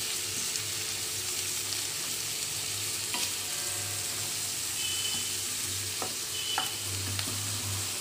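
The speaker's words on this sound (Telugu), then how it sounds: "ఆనియన్స్ ఫ్రై అవుతున్నాయి ఫ్రెండ్స్." Thinly sliced onions fry in a pan for Hyderabadi dum biryani, giving a continuous moderate sizzle with a low hum underneath and a few scattered light clinks of a utensil.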